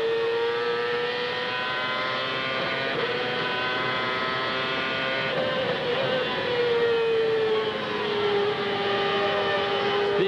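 A CART race car's engine at the 2002 Milwaukee race screams at high revs. A steady, loud whine climbs, dips briefly for a close-ratio upshift, then climbs again, with a continuous hard mechanical drone underneath.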